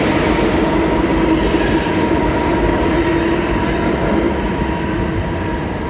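New York City subway train rumbling steadily through or near the station, a continuous loud low roar with a faint squealing wheel tone and metallic rattle throughout, no voices.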